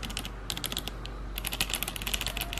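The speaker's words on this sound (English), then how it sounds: "Here's a sound test of the Razer Ornata." Rapid keystrokes on a Razer Ornata Japan Edition hybrid mecha-membrane keyboard, a steady run of close, crisp clicks in irregular bursts with short pauses, heard alone at moderate volume.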